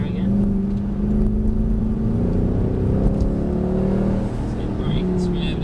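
A Mercedes car driving on a track, its engine giving a steady, loud drone with gently rising and falling pitch as it pulls through corners, heard from inside the car.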